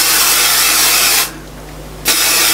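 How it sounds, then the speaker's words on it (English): 505 spray adhesive hisses steadily and loudly from an aerosol can onto fabric in two close bursts broken by a short pause. "I'm going to spray this just a little bit, just to one side."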